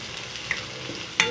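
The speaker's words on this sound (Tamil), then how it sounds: "வதங்கி கொண்டிருக்கைகளே நான் கொஞ்சம் கருவேப்பிலை சேர்க்குறேன்." Curry leaves go into onions sautéing in a pan, giving a soft steady sizzle with a faint clink and a brief bright crackle near the end.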